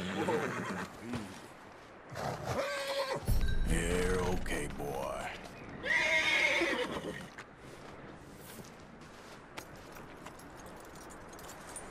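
A horse in Red Dead Redemption 2 whinnies and neighs loudly several times, close up, with hooves clopping and some mechanical clicking, and a voice briefly speaks in the background.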